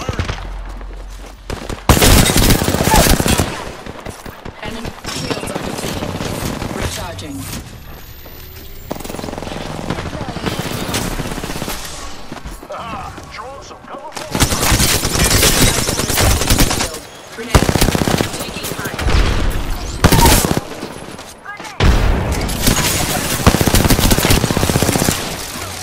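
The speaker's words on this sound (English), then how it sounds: "I'm under fire." Gunfire in the video game Apex Legends, with long automatic bursts and rapid shots repeating in loud clusters over nearly half a minute, with in-game voice lines in between.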